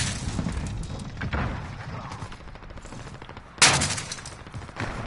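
Gunfire in a Call of Duty match, dense rapid bursts and thuds that run steadily under the game din, close and loud, with one sharp heavy blast near the end.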